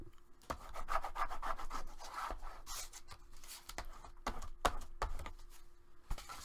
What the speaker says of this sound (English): bring it over and burnish it.